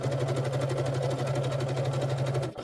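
A sewing machine stitches the corners of quilt blocks with a fast, steady hum and rapid needle chatter, close and continuous before stopping abruptly.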